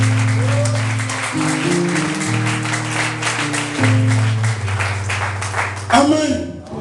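A church congregation applauding and acclaiming during a sermon, with steady clapping and voices over a sustained organ or keyboard chord, swelling near the end.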